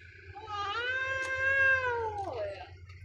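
Two cats squaring off in a fight, one giving a long, wavering yowl that swells and then drops away, close and clear over a faint low hum.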